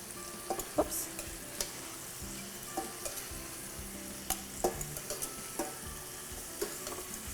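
Spiced cinnamon meatballs sizzling and frying in a pan as they are lifted out, a steady soft crackle with scattered light clinks and scrapes, quiet and close.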